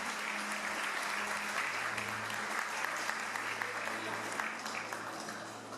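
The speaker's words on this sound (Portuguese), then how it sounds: "Os que podem tomar o seu assento aplaudindo a Jesus porque ele é bom" A church congregation at a large evangelical congress applauds, a dense, sustained wash of many hands clapping that fills the whole space, with voices mixed in beneath it.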